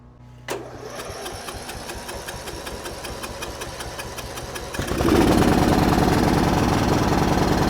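Ride-on lawn mower tractor engine, after trouble starting in the first mowing of the season, catching with a click and running at a rapid, slightly uneven putter, then revving up louder and rougher near the end; close by, no talking.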